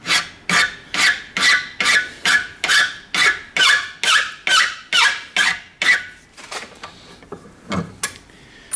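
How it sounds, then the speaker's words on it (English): Hand scraping in the slot of a Victorian screw during an 1865 Forster & Andrews pipe organ restoration, a close, loud rasping squeak in a steady rhythm of about a dozen strokes, then a few slower, fainter scrapes. "This scraping is going through my teeth."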